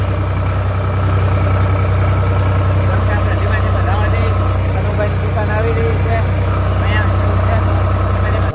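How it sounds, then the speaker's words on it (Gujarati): A farm tractor idles close by with a steady, loud, low engine rumble that runs throughout, while voices murmur faintly in the background. "ટ્રેક્ટર લાતો કર્યો હવે."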